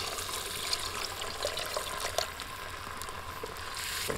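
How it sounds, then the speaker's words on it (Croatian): Half a litre of water poured into a hot pan of fried onion and carrot, giving a continuous rushing, bubbling hiss that holds steady and fairly loud throughout. "dodajem pola litra vode."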